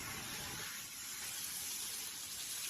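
A homemade pipe sprinkler spraying water over a vegetable garden gives a steady, even hiss of fine spray that runs unbroken throughout, fairly quiet and close, with no voices.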